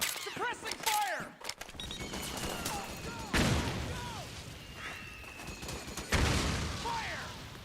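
Suppressing gunfire in the PS3 game Metal Gear Solid 4, with bursts of shots and booms at about 0 to 1, 3.4 and 6.2 seconds over continuous battle noise, alongside shouting voices.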